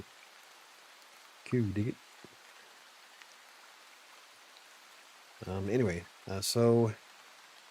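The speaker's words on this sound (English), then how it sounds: "I can hear both sounds, your voice and the rain" Steady rain hiss runs through the whole stretch as a constant background wash, with people talking briefly over it.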